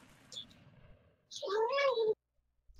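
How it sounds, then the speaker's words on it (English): A house cat lets out a short chirp, then a longer, loud wavering meow close by, with faint background sound and no speech over it. "Oh, that's a cat."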